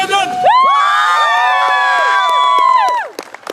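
Airshow crowd at a Royal Marines unarmed commando display cheering and whooping loudly, a dense burst of many voices sustained for about three seconds before tapering off.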